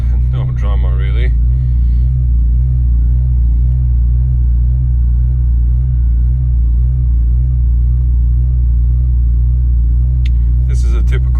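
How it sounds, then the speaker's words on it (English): A BMW E46 M3 idles high and steady after a very cold start, a loud continuous low rumble close by, with brief bursts of other noise at the start and the end. "This is a typical E46 M3, very cold start idle."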